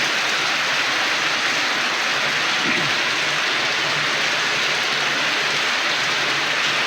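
Steady rain falls continuously, a dense broadband hiss of drops with no voices, fairly loud and close throughout.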